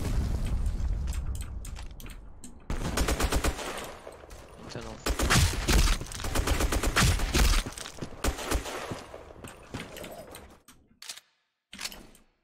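Rapid bursts of AK-12 rifle fire in the online shooter Black Squad, with loud crackling volleys and a few sharp booms from about 3 to 10 seconds, after which the firing thins out into scattered shots and near silence.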